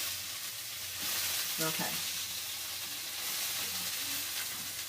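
Crab cakes fry in a pan with a steady, loud sizzle throughout. A spatula briefly scrapes beneath them and a voice speaks a single short word.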